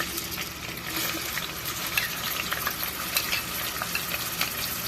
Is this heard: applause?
no